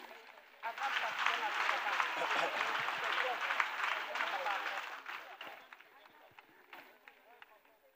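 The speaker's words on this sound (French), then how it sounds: "Acclamation à Jésus-Christ." A congregation at a French-speaking church prayer gathering bursts into sustained clapping and applause acclaiming Jesus Christ, a dense crowd sound that swells, then thins and fades toward the end.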